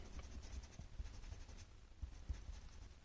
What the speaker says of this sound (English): I can erase the pencil lines.